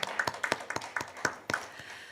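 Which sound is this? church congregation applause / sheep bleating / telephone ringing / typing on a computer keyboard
church congregation applause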